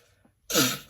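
After a quiet moment, one sharp, forceful blast of breath through the nose, loud and close, ending quickly.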